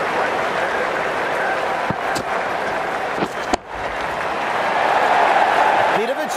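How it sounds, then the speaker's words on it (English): Crowd noise in the Ashes Cricket 2017 video game during an IPL match, a steady roar of cheering and applause that swells slightly toward the end, heard under commentary. "The crowd is absolutely loving this as the bowler comes in again."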